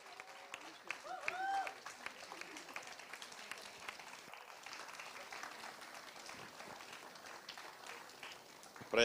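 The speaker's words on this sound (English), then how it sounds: "Can we have a big round of applause for Mr. Prayag?" Applause from a conference audience, faint and steady, a soft wash of many hands clapping that runs for several seconds, with a little crowd noise mixed in.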